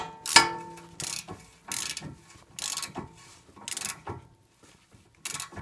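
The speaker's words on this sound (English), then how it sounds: "I'm going to put a ratchet on here on this particular one." A ratchet clicks in repeated short bursts, about six strokes, as it turns a 19 mm bolt on a Toyota RAV4 during CV axle work, each burst a crisp close metallic chatter separated by brief pauses.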